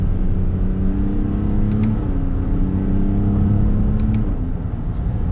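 A 2020 Toyota Yaris hot hatch pulling hard under acceleration, its engine tone climbing and shifting over a constant loud road rumble from inside the cabin.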